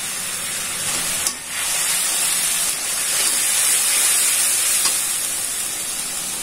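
Chili, turmeric and coriander powders frying in hot oil with salt added for a fish curry, a steady close sizzle and hiss that carries on unbroken, with one brief dip partway through.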